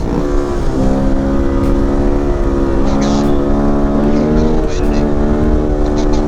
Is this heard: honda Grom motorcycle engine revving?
yes